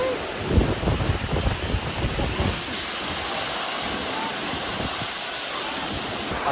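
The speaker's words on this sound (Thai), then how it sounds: "ตอนนี้เราอยู่ที่น้ำตกแล้วนะคะ" Jakkadin waterfall near E-Tong, Pilok, rushes as a loud, steady broadband hiss of falling water, with some low rumbling buffets over the first few seconds before it settles into an even roar.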